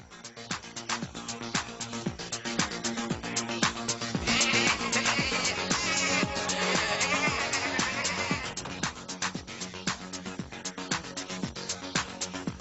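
Sheep bleat repeatedly over a loud, rhythmic disco dance beat with thumping drums, in a cartoon.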